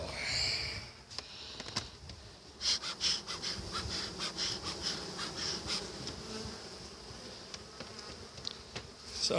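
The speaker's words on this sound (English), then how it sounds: "the bees were a little cranky." Agitated honeybees buzz close by around a hive in a steady drone, with individual insects whining past at higher pitch and soft rustling underneath.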